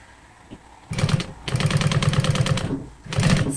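A sewing machine topstitches a thick denim jeans inside seam as a flat fell seam, running in three close bursts of rapid, rhythmic stitching with short pauses between.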